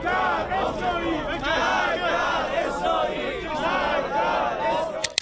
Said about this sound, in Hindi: भीड़ नारे लगा रही है